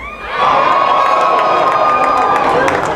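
A dense crowd at a Liberal election rally for Justin Trudeau in Mississauga, Canada, bursts into loud, sustained cheering and shouting that swells after a brief moment and holds steady throughout.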